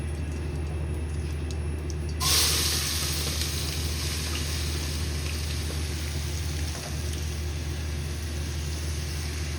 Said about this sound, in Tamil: வெங்காயம் வந்து நல்லா வறுத்துக்கலாம்.